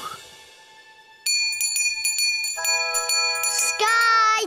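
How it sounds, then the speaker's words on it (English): Bright ringing bell tones chime in a cartoon, several clear metallic rings layered one after another, loud and close. "Bobo, ring bell!"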